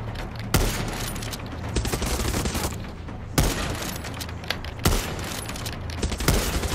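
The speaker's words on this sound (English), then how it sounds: "A few more shots." Gunfire in Far Cry 6, heavy sharp blasts ringing out at irregular intervals over a dense, rumbling background of continuous shooting and explosions, loud and close.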